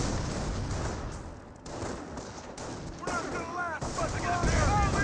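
Company of Heroes 1 battle between US Rangers and Wehrmacht Grenadiers, with dense overlapping rifle and machine-gun fire, grenade blasts and rising whistles forming a continuous loud wall of combat noise.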